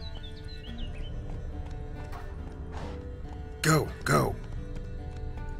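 Horse movement in The Witcher 3 video game shows up as two brief, louder bursts of clatter midway through, set against steady game ambience and music, with voices speaking briefly.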